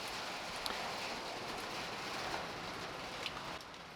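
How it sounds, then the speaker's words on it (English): Steady rain pattering down on surfaces nearby, a continuous hiss with occasional louder drops. "the rain's really getting up. You can probably hear it in the background."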